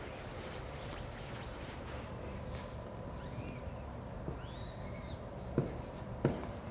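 Pen or marker scratching on paper while sketching a zigzag graph of straight line segments by hand, a steady faint rubbing through the clip with a couple of sharper taps near the end and no talking.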